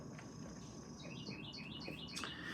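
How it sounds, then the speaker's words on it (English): Several small birds chirp and tweet outdoors in a quick series of high, repeated notes over a low steady background hum, fairly near and moderately quiet. "So, the birds are coming out."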